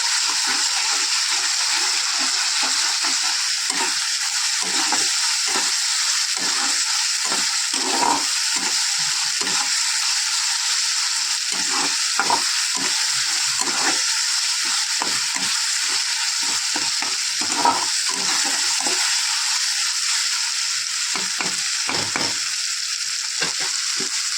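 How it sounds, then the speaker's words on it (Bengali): Mushrooms fry in a spiced masala in a pan, a steady loud sizzle running throughout with repeated scraping and stirring strokes, no voices. "মাশরুমগুলো মশলাটার মধ্যে দিয়ে দিলাম ডাইলে। এটা এখন ভালো করে কষিয়ে নেব।"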